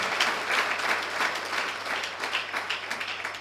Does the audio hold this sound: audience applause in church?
yes